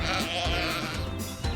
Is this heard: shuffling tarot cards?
no